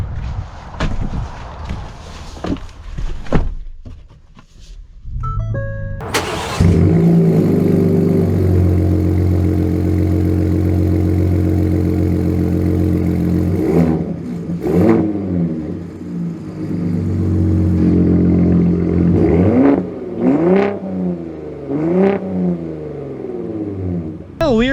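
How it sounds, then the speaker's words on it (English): Ford Shelby Raptor and Raptor R pickup trucks, exhausts starting with a sharp bark, then a deep loud idle that swells into several revving surges and accelerating pulls up close. "let's get some driving in and also listen to those exhausts too"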